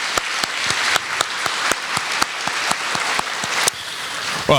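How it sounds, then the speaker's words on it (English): An audience at the 2025 Night of Champions awards ceremony breaks into steady applause, dense clapping with sharp louder claps standing out at a regular rhythm, sustained throughout and fairly close. "let's give them a round of applause"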